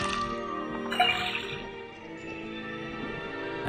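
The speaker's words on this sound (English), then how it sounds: "First thing we do is put the sample of liquid into the cauldron, then tap the faucet." Liquid pouring from a tap into a cauldron in the Detective Grimoire swamp adventure game, a steady watery trickle with a brief splashy burst near the start, heard over soft game music.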